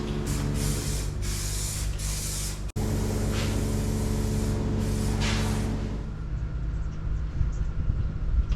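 Etch primer sprayed onto bare car metal on a Volkswagen Beetle body, a steady loud hiss in pulsing passes, briefly cut near the start, then fading to a quieter airy hiss.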